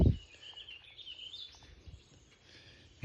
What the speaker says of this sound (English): it is all you can hear, nothing but birds.